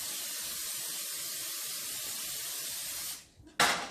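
Cooking spray hisses steadily onto a pan on a home kitchen stove for about three seconds, close and alone, then cuts off with a brief clatter.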